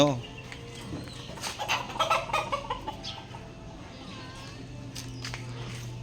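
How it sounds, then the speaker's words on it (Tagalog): Young chicks peeping around a backyard where gamefowl are kept, a scatter of high cheeps and clucks at close range, loudest mid-way, with some low murmuring in the background. "kulit ng mga sisiw na to ah"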